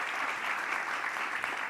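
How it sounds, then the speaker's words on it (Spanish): An audience at a talk applauds the organizer of a lecture series, a steady, dense wash of clapping throughout the brief moment. "hagamos un aplauso por organizar este ciclo"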